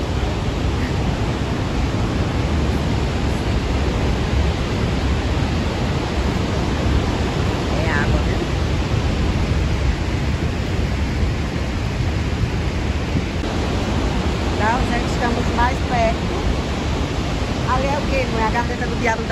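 Iguaçu Falls roars in a loud, unbroken wash of falling water driven by wind and spray, with faint bird-like chirps near the end.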